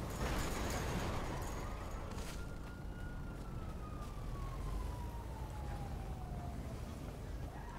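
In the FiveM video game, a police car siren sounds as a single long wail that slides slowly downward over several seconds, faint and distant beneath a heavy, constant rumble of background noise.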